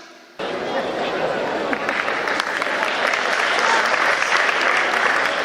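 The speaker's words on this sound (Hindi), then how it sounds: "ताली बजाने वाली बात नहीं है।" An audience at a Hindi comic poetry (hasya kavi) performance bursts into sustained, dense applause that starts abruptly and stays loud and steady, with faint crowd chatter mixed in.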